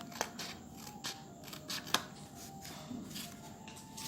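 Scissors cutting a folded paper circle for a money envelope cover, a few crisp close snips spaced unevenly, with a quiet steady hum behind them.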